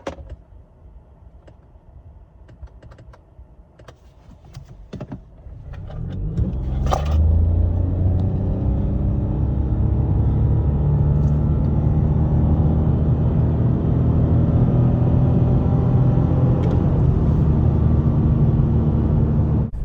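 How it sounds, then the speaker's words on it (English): Toyota Yaris Cross GR Sport hybrid driving: quiet cabin at first with a few clicks, then a steady, loud low road and engine rumble builds and holds as the car gets under way. "Now I'm driving the GR Sport version, which is the sporty version."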